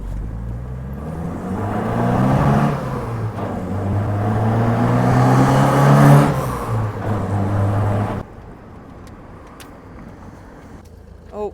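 An MG Midget drives off round the block, its engine droning and rising in a rough rumble for several seconds before cutting to quieter background, with voices talking over it.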